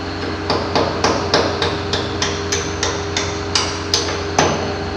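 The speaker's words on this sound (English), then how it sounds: "Alright, now we can just drive our pin down in" A hammer drives a steel pin down into a hydraulic cylinder gland during a gland nut leak repair, about a dozen sharp metallic strikes at a steady rhythm, loud and close.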